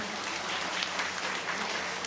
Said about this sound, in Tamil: அப்படியே கொஞ்சம் எல்லாரும் ஒரு உற்சாகத்தோட கைத்தட்டுங்க